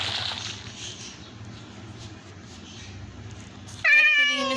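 In the video game Craftsman, a steady low game hum plays, then a single loud, sharp cat meow cuts in at the end, close and clear, with no talking.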